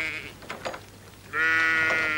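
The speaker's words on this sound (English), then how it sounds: "already loading the sheep into their lorry" Sheep bleating as they are loaded into a lorry on a farm; a short bleat at the start, a brief pause, then a louder sustained bleat close by, with no talk.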